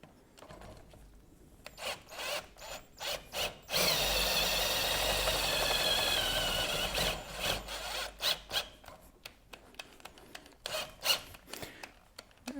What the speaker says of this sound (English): Sorry about that with the drill getting caught occasionally.